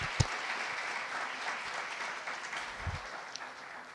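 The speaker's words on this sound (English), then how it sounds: "a round of applause for all of you" A plenary audience at a service-learning conference applauds, a steady, moderate patter of clapping from a seated crowd with a few louder knocks and thumps.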